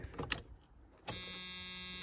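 A 1985 Camaro Z28 with an HEI distributor, left abandoned for 13 years, cranks over. After a second of faint rustling, a steady, whirring starter whine kicks in abruptly and holds evenly. No one speaks.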